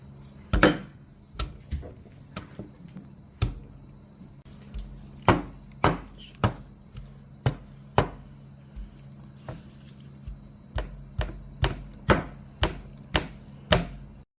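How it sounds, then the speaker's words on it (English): Garlic is chopped with a knife on a board in a string of about twenty crisp, sharp knocks. They start sparse and irregular and then quicken into a steady rhythm, close by against a quiet background. "Now we're gonna cut the garlic."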